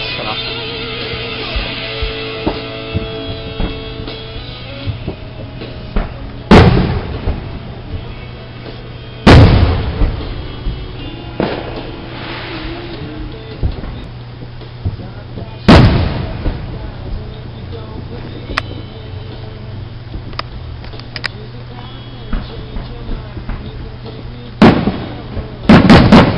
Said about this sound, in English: I've always loved that fireworks with that time delay.